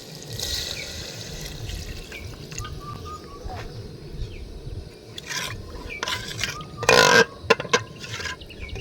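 Water is poured into a pan of fried spices, potato and goat fat, giving a brief hissing, bubbling splash amid low rustling, scraping and outdoor background noise.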